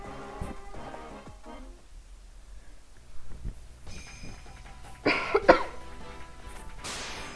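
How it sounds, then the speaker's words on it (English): A few sharp coughs burst out near the end, close and loud, after a stretch of quiet shuffling and faint clicks. "I needed to cough if anyone heard that"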